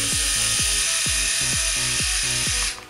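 A Philips electric shaver motor running at full speed, a loud, steady close-up buzzing whine with regular pulsing sweeps, cutting off abruptly at the end; no voices.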